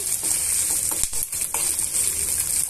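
Halved chillies fry in a pan for an idli and dosa chutney, making a dense, continuous hiss and sizzle with a few brief stirring scrapes. The sound is close and loud, with no talking.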